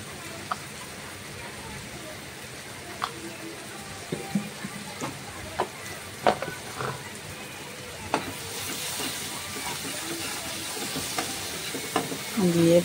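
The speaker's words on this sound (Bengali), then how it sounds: "আদা, কাঁচামরিচ, টমেটোগুলোকে ফ্রাই করছি।" Onion, garlic, ginger, green chili and tomato fry in a pan with turmeric, cumin and chili powder, a steady sizzle broken by scattered stirring clicks and scrapes, growing busier toward the end.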